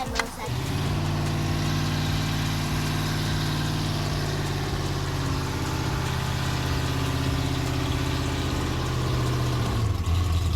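A racecar engine runs through a steady, loud, low roaring drone that barely changes in pitch across the whole stretch, with a brief shift near the end.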